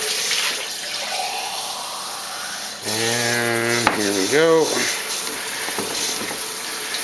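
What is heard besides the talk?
water running from a tap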